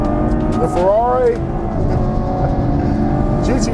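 A Ferrari GT4C Lusso V12 engine hums steadily nearby in a car, with a brief rising whine, while someone talks over it.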